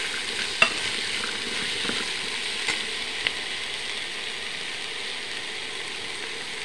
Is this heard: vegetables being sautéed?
yes